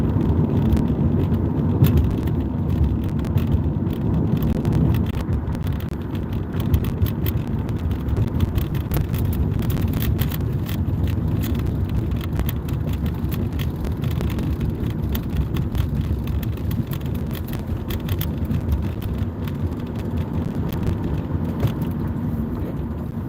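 Car interior on the road: a steady low engine and road rumble runs throughout, loud and even, with broadband wind and tire noise and no talk.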